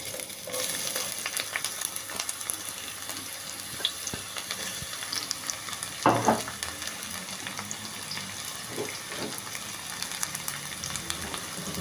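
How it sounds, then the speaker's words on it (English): Onions fry in about three tablespoons of hot cooking oil in a pot, a steady close sizzle with occasional stirring scrapes and a brief louder crackle. "add about 3 tablespoons of cooking oil, allow it to heat up, then I'll fry my onions."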